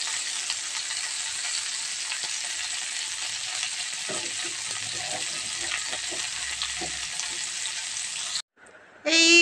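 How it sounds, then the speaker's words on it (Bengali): Cut vegetable pieces frying in a little oil in a covered pan, a steady, even sizzle that runs throughout, with faint stirring, briefly cut off near the end. "ঢাকা চাপা দিয়ে দিয়ে ভাজলে অল্প তেলে ভাজাটা হয়ে যায়"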